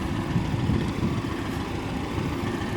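A Porsche 718 Cayman GTS with a 2.5-litre engine idles. It makes a steady, low, even rumble with no revving and no voices.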